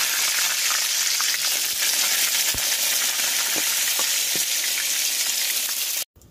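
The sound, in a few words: eggplant slices frying in hot oil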